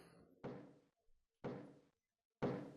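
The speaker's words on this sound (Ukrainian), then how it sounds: "Чую, хтось стукає?" Knocking in Baldi's Basics Plus: three heavy, evenly spaced thuds about a second apart, each a dull broadband hit with a short decaying tail, loud and close with silence between.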